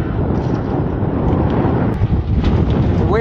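Wind gusting over a small fishing boat at sea, a steady loud rushing roar buffeting the microphone, continuous and broadband with no talk.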